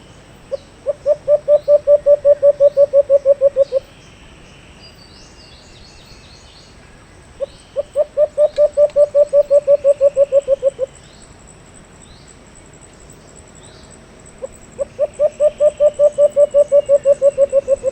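An alimokon dove calls close by in three long bouts of rapid, evenly repeated notes, each lasting about three seconds, with quiet pauses between them and a faint background hiss.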